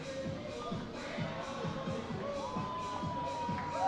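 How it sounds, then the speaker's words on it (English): A crowd at a minor league baseball game between the Reading Fightin Phils and the Erie SeaWolves, with a steady mass of murmuring voices and scattered shouts that swell slightly toward the end. "Fightins crowd is getting into it. They're excited here."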